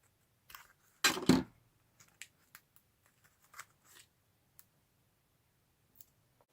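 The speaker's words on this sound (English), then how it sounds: "It's easier to cut these when they're still on the release paper." Scissors snipping sticker material still on its release paper: one louder double snip followed by a scattering of faint, sparse clicks and small cuts in a quiet room.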